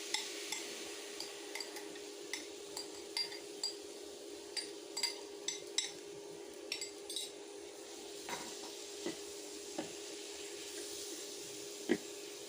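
Mushrooms and capsicum tipped into a pan over lowered heat, with a steady faint sizzle and a series of light metallic clinks and scrapes from a spoon against the pan.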